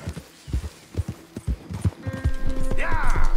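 A new horse in Red Dead Redemption 2 trots with clear rhythmic clip-clop hoofbeats up close. A player's voice comes in partway and talks over the hooves.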